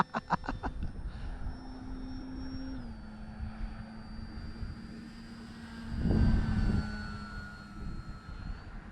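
An FMS PA-18 Super Cub 1300mm RC model airplane flies overhead, its electric motor whining steadily and shifting pitch, with a louder gust of wind noise partway through.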